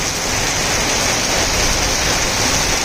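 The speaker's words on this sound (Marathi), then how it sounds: "बघा मुसळधार पाऊस अचानक सुरू झालेले आहे, बघू शकता या ठिकाणी।" A sudden heavy rainstorm pounds the Udgir–Deglur road, a loud unbroken hiss of raindrops striking surfaces nearby, even in level from start to finish with no one speaking.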